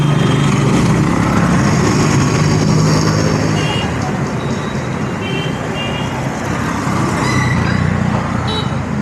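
Loud, steady roadway noise from congested vehicles stuck in a traffic jam near a busy fish market on a Wednesday, a constant engine rumble with occasional horns, while someone talks close by.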